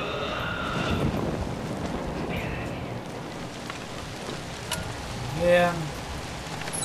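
Steady rain hiss patters throughout in the video game ZombiU, with someone speaking briefly and a few electronic tones near the end.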